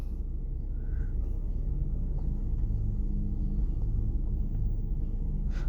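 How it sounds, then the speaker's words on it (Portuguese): A Ford Focus engine idles steadily with a low, smooth rumble, constant and close, with faint background noise. "A marcha lenta do carro ficou até mais suave em relação ao original."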